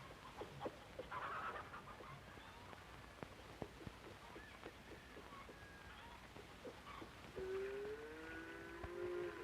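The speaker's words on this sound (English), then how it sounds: "Carl's sister, Gretel, takes care of the chickens." Chickens cluck on a Swiss mountain farm in an old 1949 recording, scattered short clucks with a drawn-out call near the end, faint under a hissy background.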